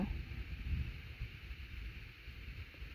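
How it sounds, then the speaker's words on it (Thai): Cold wind on a bedroom balcony buffets the microphone in a soft, steady low rumble with gentle gusts, fairly quiet, with no voices. "ลมหนาว"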